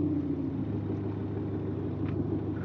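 Tuned BMW X5 diesel engine idling steadily after tuning, a continuous low rumble with a faint higher whine, close and even throughout with no talk.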